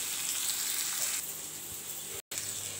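Vegetable peels frying in a pan give a loud, continuous close sizzle with a hissing crackle, cut off briefly near the end.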